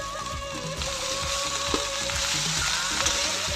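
Leafy vegetables hit a hot kadhai and sizzle loudly at close range, a dense crackling fry with a few stirring clatters over the seconds.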